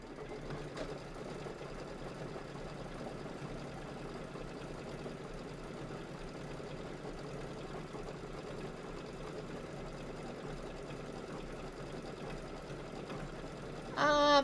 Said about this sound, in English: Last step is 4 minutes, and it is going to do all the decorative stitching.